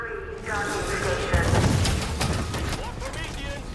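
Rapid, overlapping blasts and booms in Halo 5: Guardians, dense and continuous, with a voice speaking over the chaos.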